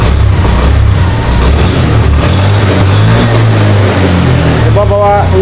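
A Honda Beat Deluxe scooter engine with a fuel pump fault and blinking engine light, revving loudly and close with uneven, sputtering surges that continue throughout, while someone talks over it.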